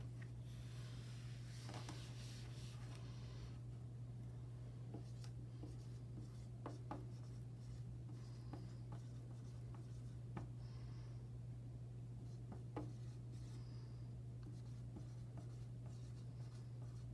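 Pen or pencil scratching out numerals by hand on paper, a faint steady scratch with small bursts of strokes over a low constant hum, no talking.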